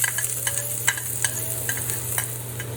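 Chopped shallots and minced ginger stir-fry in lard in a wok: a constant hot sizzle over a low steady hum, punctuated by regular sharp metallic scrapes of a spatula.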